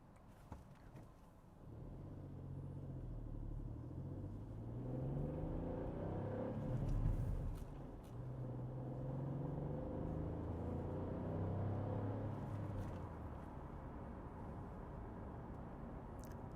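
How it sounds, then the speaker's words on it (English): Engine of a Hyundai i20 with a 1.0 turbo three-cylinder, heard from inside while driving: a steady low drone that rises and falls with throttle and gear changes, fairly quiet and continuous throughout. "noise that this little 3-cylinder makes is really nice to hear, especially in a world of EVs."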